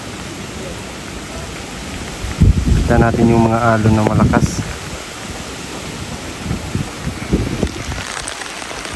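Steady rain falling outdoors near the sea during a flood, a constant hiss with wind buffeting the microphone, while someone talks over it for a few seconds.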